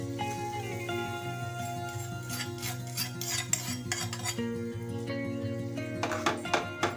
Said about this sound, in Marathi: आणि ही दह्यामध्ये मिक्स करून घेऊया.